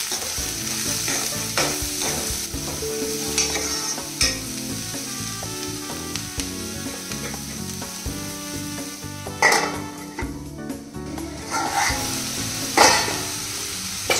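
Sliced onions fry in oil in a pan, sizzling steadily while a spoon stirs and scrapes against the metal, with a few sharper clinks of utensil on pan standing out near the end.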